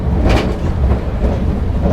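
Steady low rumble of a moving passenger train carriage between Lyon and Geneva, with faint rhythmic clatter from the rails and constant broadband noise throughout.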